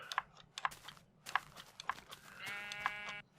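Sheep bleating in the Minecraft video game: several short, nasal bleats spaced about half a second apart, fairly close, with a longer tonal sound near the end and no speech.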